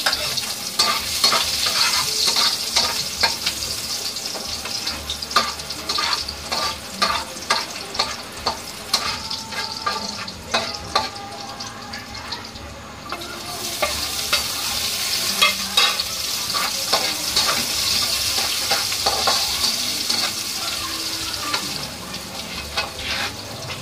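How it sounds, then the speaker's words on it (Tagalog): Garlic and onion sautéing in hot oil in a pan for pork binagoongan, a bright crackling sizzle with frequent spatula scrapes and knocks, easing briefly midway before picking up again. "Pag mainit-init na po yung mantika, igisa po yung bawang at saka yung sibuyas."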